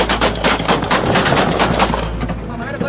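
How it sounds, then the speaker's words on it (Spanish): Rapid, dense gunfire in Ecuador, with many overlapping shots cracking loud and close in a sustained volley for the whole stretch as voices shout underneath. "Este me va a disparar, acá."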